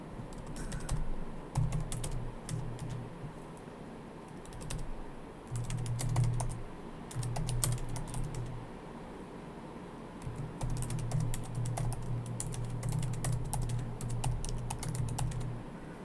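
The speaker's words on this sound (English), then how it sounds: "I'm just typing a few notes in here." Typing on a computer keyboard during a live grammar stream: bursts of quick, light key clicks with short pauses between them, close and fairly quiet, with no talk over it.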